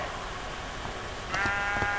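Sheep in the Minecraft video game bleat over a steady background hum, a short bleat near the end rising clearly above the ambient sound.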